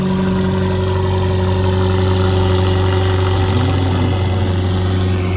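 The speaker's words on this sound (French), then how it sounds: "Elle vient de démarrer cette McLaren." McLaren supercar fitted with an aftermarket exhaust idles right after starting, a loud, constant low drone with a steady hum and a slight rise partway through, heard close.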